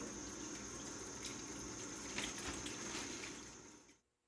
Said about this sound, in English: Cover this with water.